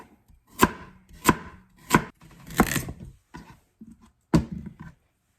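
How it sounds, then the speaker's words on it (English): A knife slices through carrots on a cutting board before canning, landing about six crisp, evenly spaced chops with softer scraping between them, close up and with no voices. "And then slice away"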